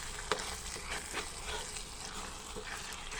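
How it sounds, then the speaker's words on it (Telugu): Spices tempering in hot oil for a homemade chutney, a steady close sizzle and crackle with a sharp pop near the start and light stirring scrapes over the top. "పోపు అయితే పెట్టేసాము"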